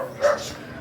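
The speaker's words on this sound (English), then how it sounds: "barking dogs everywhere" A single short dog bark rings out in the Philippines, a quick mid-distance yelp against faint background noise.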